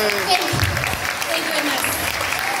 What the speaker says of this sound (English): Round of applause for the boy.